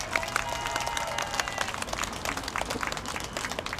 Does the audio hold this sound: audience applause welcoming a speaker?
yes